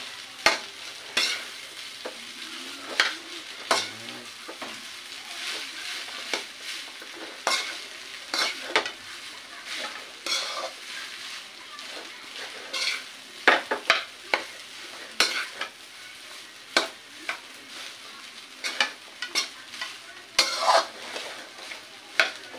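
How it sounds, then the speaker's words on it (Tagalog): Fried rice sizzles in a pan while a utensil stirs and scrapes it, with frequent irregular clinks and scrapes above a constant quiet frying hiss. "Halo-haloin hanggat sa mahilo."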